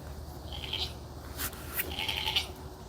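A male goat on a homestead gives a couple of nearby bleats, one short and one longer and more drawn out, over a steady outdoor background.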